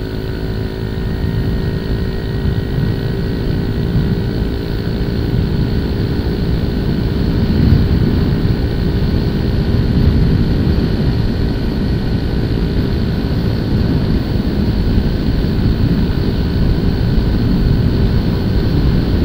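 A Yamaha Mio i 125 scooter with a CVT setup of 11 g and 12 g flyballs and a 1000 rpm center spring accelerates hard at full throttle, its engine droning loudly and continuously, rising slightly in pitch through the run.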